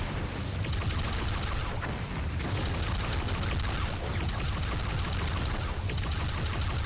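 The USS Galaxy starship explodes during a Star Trek Nemesis space battle game: a loud, dense, continuous roar of blasts and crackling fire rumbles on without a break for several seconds.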